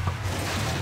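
A grenade blast in the Halo video game, a short burst of loud, dense low rumble lasting under a second with no talk over it.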